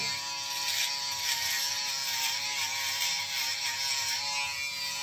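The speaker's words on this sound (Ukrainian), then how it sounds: "Тримером я знімаю масу і шліфую шейвером" A steady VGR V-399 electric shaver buzzes continuously at close range while smoothing a beard after trimming, a constant high whir with slight variation as it moves over stubble, no voices.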